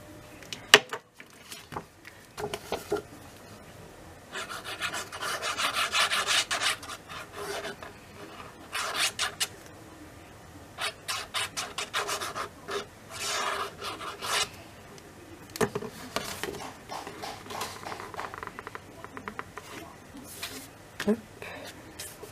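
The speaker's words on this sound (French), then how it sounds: "Je biseaute d'abord mes angles." A hand tool bevels the corners of cardboard for a scrapbook folio album, scraping and rasping in repeated short strokes, close and fairly quiet, with pauses and occasional soft speech between passes.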